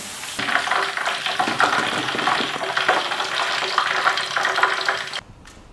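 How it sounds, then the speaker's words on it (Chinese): Lotus root strips frying in hot oil, a loud continuous bubbling sizzle lasting about five seconds before cutting off abruptly. "把莲藕条也给它过一下油，炸好的莲藕条给它捞出来。"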